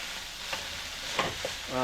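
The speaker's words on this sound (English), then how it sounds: "Let's stir this up a little bit, mix all of that." Ground turkey with oyster sauce is stirred in a hot pan, a steady sizzle broken by a few scraping clacks of the utensil against the pan, close and moderately loud, with no talking.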